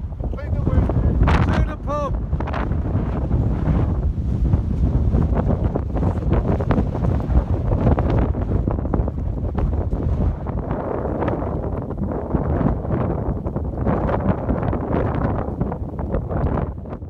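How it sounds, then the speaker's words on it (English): Strong wind buffets the microphone on an exposed hill in the Peak District in freezing weather, a loud, continuous rumbling roar with gusty swells throughout and faint voices partly buried beneath it. "It's a bit windy and bloody freezing."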